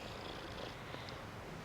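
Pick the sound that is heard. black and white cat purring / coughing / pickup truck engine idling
black and white cat purring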